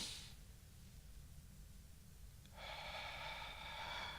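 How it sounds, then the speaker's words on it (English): A single deep breath, heard up close as an airy inhale at the start and a louder, longer exhale in the second half, soft and quiet. "If you take a deep breath in"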